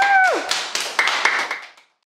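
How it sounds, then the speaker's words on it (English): Short burst of clapping from an audience after a children's school play of Little Red Riding Hood, a few loud claps fading quickly to silence, following a brief tonal sweep at the start. "And a big applause to Roses One!"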